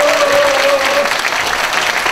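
Audience at a Korean presidential campaign youth event clapping loudly and continuously, a dense, close burst of applause with a brief voice over the start.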